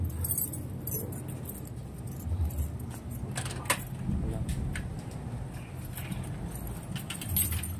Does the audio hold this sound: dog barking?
no